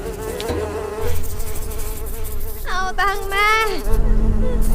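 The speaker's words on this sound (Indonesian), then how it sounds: "Untungnya Simon datang untuk mengatasi pasukan lalat yang membuat si Zen terganggu" A swarm of flies drones in a steady, close insect buzz that swells and wavers throughout, with a few brief higher whining passes near the middle.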